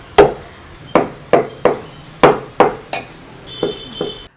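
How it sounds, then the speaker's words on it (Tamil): A butcher chopping meat at a meat shop with a cleaver: about nine heavy, sharp thwacks on a wooden block in an uneven rhythm, close and loud, with no talking. "கறி கடையில் கட் பண்ணுறது கொஞ்சம் கேர்ஃபுல்லாக கட் பண்ணணும்"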